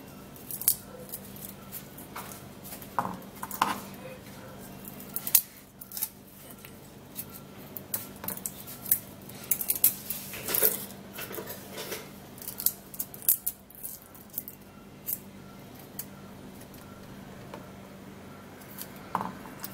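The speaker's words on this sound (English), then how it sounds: "I'm going to be peeling the garlic" Garlic cloves being peeled by hand give soft, scattered crackling and snipping sounds with irregular rhythm, close up and fairly quiet, with no talking.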